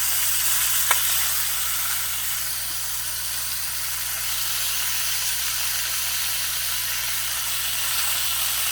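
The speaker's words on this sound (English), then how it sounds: "And didn't touch the heat, pan still hot, sear them right up." Lamb chops sear in a hot pan with ghee and olive oil, giving a steady, close sizzle and hiss throughout, with one brief tap near the start and no talking.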